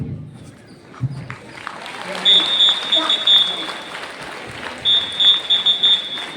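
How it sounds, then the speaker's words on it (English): Students at a convent high school Republic Day celebration clap for a correct answer, scattered applause in uneven bursts under talk, with a high steady beeping tone running through part of it. "John has given the right answer and you are applauding that."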